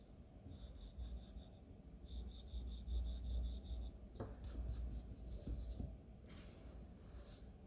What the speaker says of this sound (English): Rub out your construction lines if you want to.